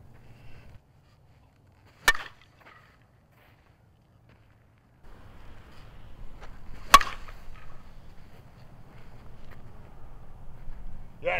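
Two sharp, isolated cracks of a 2024 Louisville Slugger Genesis softball bat striking a softball outdoors, a few seconds apart, with light wind rumble and faint ambient noise between them.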